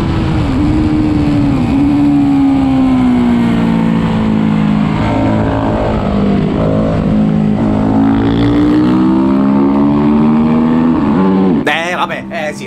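A racing motorcycle in a Master GP race accelerates hard down the straight, its loud, close engine whine climbing in pitch and dipping briefly at each gear change before cutting off abruptly near the end.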